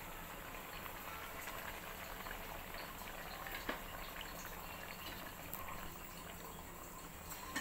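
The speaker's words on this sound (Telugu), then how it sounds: "మూత తీసి చూస్తే 5 నిమిషాల తర్వాత ఈ విధంగా బాయిల్ అవుతుంది" A pot of Nellore fish curry broth bubbles at a steady, quiet boil, with a soft continuous simmering texture and occasional small pops, close by and with no talk over it.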